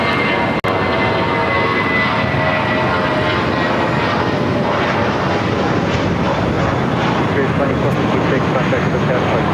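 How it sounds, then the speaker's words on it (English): An old ex-Northwest Airbus A319 taxis at LAX, its engines producing a steady, loud whine and broadband roar that hold evenly throughout, with one sharp click near the start and voices in the background. "It's an old Northwest A319 delivered to them in May of 2002."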